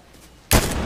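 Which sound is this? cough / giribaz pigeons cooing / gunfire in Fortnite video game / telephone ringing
gunfire in Fortnite video game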